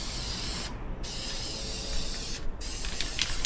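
Paint sprays steadily from a spray can onto an airsoft rifle, a continuous close hiss laying down the base coat, broken by two short pauses between bursts.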